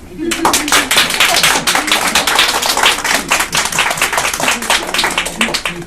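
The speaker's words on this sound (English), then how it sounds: "let's have one more round of applause for the graduates" A room full of guests applauds the graduates at a ceremony, with dense, steady clapping that carries on loudly from start to finish, with a few voices mixed in.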